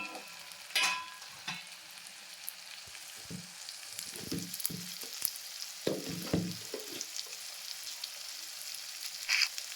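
Boiled eggs fry in a pan with onions for an egg curry, giving a soft, steady sizzle broken by scattered clinks and scrapes of stirring, all fairly quiet and close.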